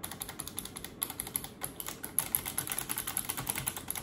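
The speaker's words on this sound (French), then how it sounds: "c'est mon clavier gamer, donc un Razer également. C'est le Ornata V2, c'est un clavier qui fait énormément de bruit" Typing on a loud Razer Ornata V2 gaming keyboard, a steady stream of quick, close clacky keystrokes with no one speaking.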